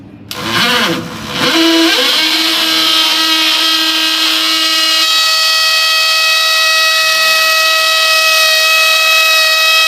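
A power drill drills into wood during a renovation, whining loudly and steadily up close, its motor holding one high pitch for several seconds after a brief start-up.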